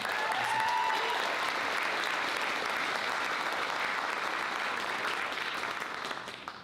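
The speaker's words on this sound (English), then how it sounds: "if we could give them a round of applause, that'd be awesome." Steady audience applause at a film festival opening night honoring sponsors, a dense even wash of clapping at moderate level that tapers off near the end.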